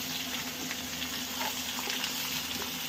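Small onions sauté gently in oil for a fish curry, a soft, steady sizzle heard close but fairly quiet, with faint stirring and no voices.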